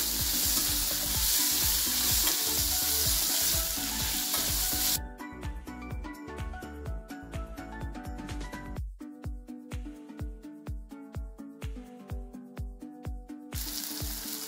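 Garlic cloves, with tomatoes, sizzle loudly in a pan for egg curry before a spoon starts mixing them, scraping in a steady, repeated rhythm over a softer frying hiss.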